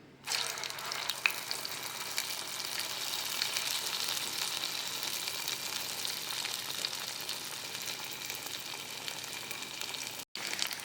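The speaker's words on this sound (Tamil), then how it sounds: "எண்ணெய் காஞ்சிட்டு இப்போ போட்டு எடுத்துக்கலாம்." Medu vada batter sizzles and crackles steadily in hot oil, a continuous close frying hiss that runs without talk and breaks off briefly near the end.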